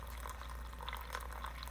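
Keurig B60 coffee maker pouring a brewing water stream into a cup, a steady close trickle and splash of liquid without talk.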